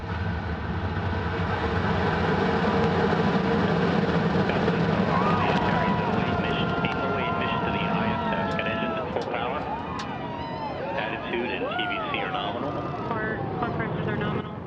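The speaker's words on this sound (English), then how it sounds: "Liftoff confirmed. Antares and the SS Gene Cernan now bound for the International Space Station." Antares rocket ignition and liftoff carrying the SS Gene Cernan cargo spacecraft toward the International Space Station, a sustained loud roaring rumble over the whole stretch, overlaid by announcer talk and shifting tonal sounds.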